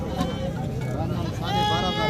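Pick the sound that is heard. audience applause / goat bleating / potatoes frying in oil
goat bleating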